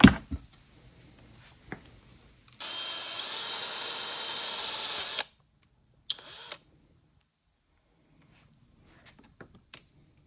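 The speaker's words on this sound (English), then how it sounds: "we just need to pretty much drill this out a little bit bigger" A small power drill whines steadily at high pitch for a few seconds, then a brief second burst, drilling out a carburetor part of a Yamaha TW200 motorcycle, surrounded by quiet clicks and handling noises.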